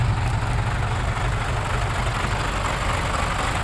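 A loud engine idles through a cheap 800-baht exhaust modification with a triple-chamber 3-inch muffler, producing a deep, steady, throaty rumble that stays close and unbroken the whole time.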